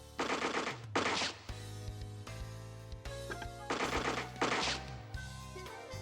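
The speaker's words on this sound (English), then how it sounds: "we can hit it with the assault rifle" Bursts of rapid assault rifle fire in a tactics video game, several quick volleys over a low steady game soundtrack, with no one talking.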